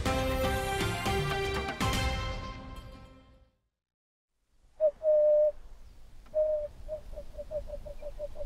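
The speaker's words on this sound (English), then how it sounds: "Emerald spotted wood dove. It's a sad song." An emerald-spotted wood dove coos after a burst of music ends and a short silence, with a few soft low notes that then speed into a quickening, tumbling series of hollow coos, fairly close and clear.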